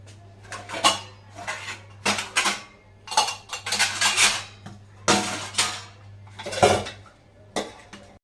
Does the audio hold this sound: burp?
no